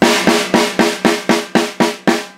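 A steady snare drum pattern, nine evenly spaced sharp hits ringing out loud and alone at a moderate tempo.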